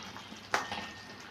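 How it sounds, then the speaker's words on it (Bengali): An okra and potato yogurt curry simmers gently in a pan, giving a soft bubbling hiss with one brief scrape or stir in the middle. "এবারে এটা আমি একটু হালকা করে সিম করে দিয়ে হতে দিচ্ছি"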